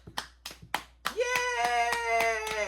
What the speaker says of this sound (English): He knows how to clap.